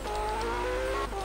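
A Porsche 918 engine in Forza Horizon drones at a steady, loud pitch with a slight rise and fall, close and continuous with no talking over it.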